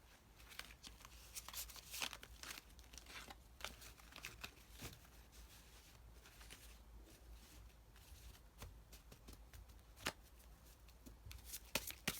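Tarot cards are shuffled and drawn by hand, a quiet, close run of soft riffling, flicking and papery slaps in uneven bursts, with no voice.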